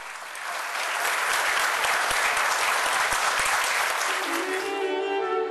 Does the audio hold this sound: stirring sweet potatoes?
no